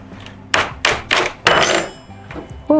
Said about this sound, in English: That was a Sawzall blade that was in the wall.